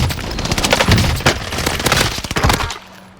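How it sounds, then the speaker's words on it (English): Rapid automatic gunfire in a PUBG-style shooter video game, loud and close, with dense bursts of overlapping shots that run for about three seconds before cutting off. "Taking fire."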